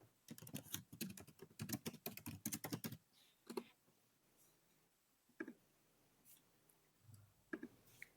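A search being typed on a computer keyboard: a quick close burst of crisp key clicks for a few seconds, then a handful of isolated taps and clicks in a quiet room.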